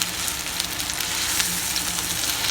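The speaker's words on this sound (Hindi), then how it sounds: "इसको पलट देंगे।" Fish tikka fries over a low flame just after being flipped, a dense, steady sizzle with small crackling pops, loud and close throughout with no voices.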